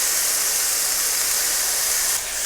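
Chili oil with its solids poured into a hot pan of stir-frying broccoli for a Chinese-style pork stir-fry, giving a loud, steady sizzling hiss that holds throughout and eases slightly near the end.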